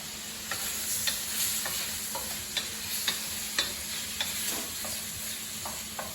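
Prawns frying in a pan give a steady close sizzle, broken by repeated sharp crackles and pops as the fat spits and the food is stirred.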